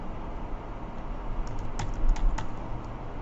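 Keys clatter on a computer keyboard as a partial name is typed into a search field, a quick irregular run of clicks that grows busier midway, close and alone over a steady room hiss.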